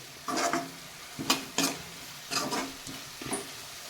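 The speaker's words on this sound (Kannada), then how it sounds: "ಇದನ್ನು ಕುದಿಸ್ಕೊಳ್ಳೋಣ ಚೆನ್ನಾಗಿ ನೀರೆಲ್ಲ ಡ್ರೈ ಆಗಬೇಕಷ್ಟೇ" A thick chickpea masala sizzles gently in a pan as its water cooks off, while a spoon scrapes and stirs it in several short, separate strokes, close and without talk.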